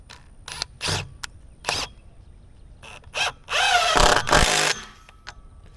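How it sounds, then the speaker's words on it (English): A cordless drill drives screws into a fence with a few short whirring bursts, then one longer run of revving and tightening, with brief pauses between bursts. "So now we're gonna screw it in."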